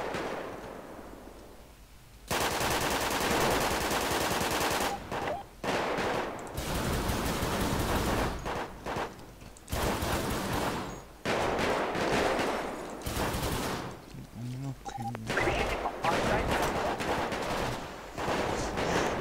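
Gunfire in a shootout in the video game MX V V2, loud dense bursts of automatic fire and rapid shots in long volleys, broken by short pauses, after a quieter opening.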